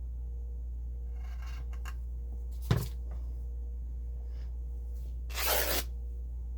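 Scissors cut through paper or fabric for a handmade journal: one sharp snip, then after a pause a longer rustling cut, close and quiet against a faint steady hum.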